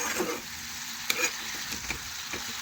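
Garlic paste sizzles in a frying pan as it is stirred, a moderate steady hiss broken by a few quick scraping knocks of the spoon, with no talk.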